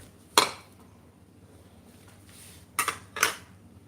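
A knife cuts up boiled eggs in a dish, producing three sharp clinks against the dish, one early and two close together near the end, with quiet pauses between.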